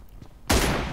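An M24 sniper rifle fires in the PUBG Mobile video game: a single sudden, loud gunshot bursts in halfway through and rings out, with no talking.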